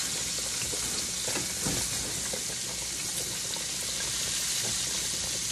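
Chopped onions frying in leftover T-bone steak grease in a pan, a steady, dense sizzle with faint crackles and stirring throughout, no talking.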